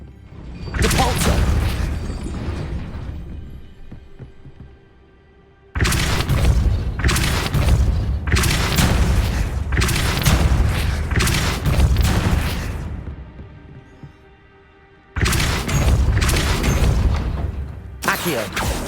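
Heavy booming impacts of the Depulso force spell cast repeatedly in the Hogwarts Legacy video game, loud thumping blasts arriving in clustered bursts separated by short quiet gaps.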